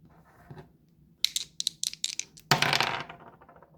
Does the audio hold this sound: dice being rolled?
yes